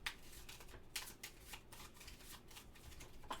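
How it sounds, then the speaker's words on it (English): A quick shuffle of playing cards during a solo tabletop golf card game gives quiet, rapid riffling and snapping flutters in several short bursts, close and soft with no talking. "Quick shuffle,"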